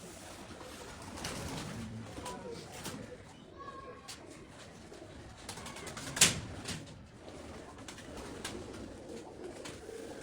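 Shahi pigeons coo softly at a moderate distance, low murmuring calls recurring over steady background noise, with a sharp knock or clatter partway through.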